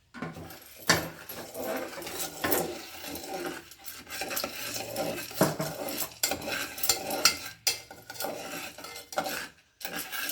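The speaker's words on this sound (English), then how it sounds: "Now we need to mix the kernels." Popcorn kernels being stirred and mixed by kids cooking at home, a steady rattling, scraping clatter of a utensil against a pot or bowl, close and continuous with brief pauses.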